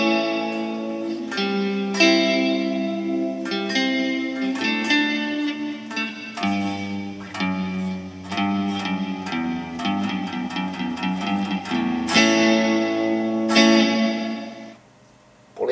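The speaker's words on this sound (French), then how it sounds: "il va y avoir les deux, un octave au-dessus et un octave en dessous, en plus du reverb." A guitar played through a Guptech WKB multi-effects unit with octave-up and octave-down voices plus reverb, sounding as a sequence of plucked notes and chords with thick harmonics and ringing tails, no talk.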